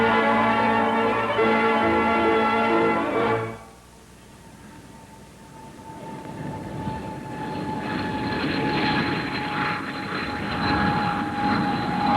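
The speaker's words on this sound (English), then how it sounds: "Beaumont is flying the first British turbojet bomber, the English Electric Canberra" An English Electric Canberra, an early British turbojet bomber, first passes with a loud tonal engine roar that cuts off abruptly, then its jet noise builds again as a steady, distant-to-nearer whooshing rumble, no voices present.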